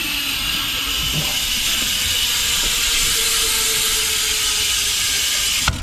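Interior of a moving train, a steady loud rumble with broad hissing noise throughout and occasional faint knocks, ending with a brief sharp clatter.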